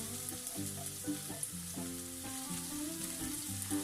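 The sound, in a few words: onions frying in cooking oil in a pan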